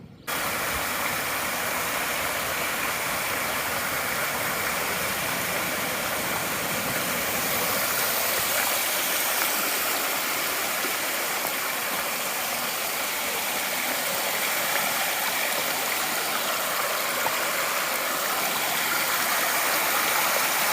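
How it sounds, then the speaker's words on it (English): Ivy Creek Falls in Shenandoah on the Appalachian Trail pours in a loud, constant broadband rush heard close up, unbroken for the whole stretch with no voices. "This is Ivy Creek Falls."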